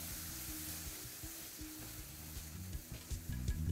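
Masala with sour yogurt stirred and fried on a low flame for a peyajkoli (spring onion) dish. A soft, steady sizzle with gentle stirring sits over a low tonal hum and grows slightly busier toward the end.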